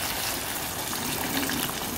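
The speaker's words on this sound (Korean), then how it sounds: "여기다가 물을 붓고 끓이겠습니다." Water gushes steadily into a pot, a continuous close rushing pour without any speech.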